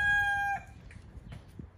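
A rooster crows loudly and clearly at close range, followed by softer scattered clucks and rustling from backyard chickens kept by a homeless man in the US.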